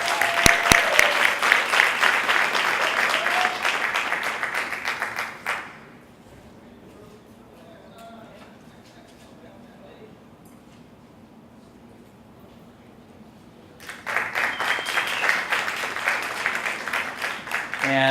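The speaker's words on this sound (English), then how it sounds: "Let's give both of them a round of applause" An audience at a school board meeting claps for a valedictorian and salutatorian in two loud rounds of applause, separated by a long quiet stretch of faint room noise.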